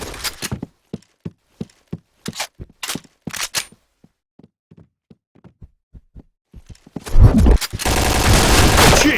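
Video game gunfire from Point Blank comes as sharp, separate shots, first in quick bursts, then lighter and more spaced out. It ends in a dense, loud burst of noise.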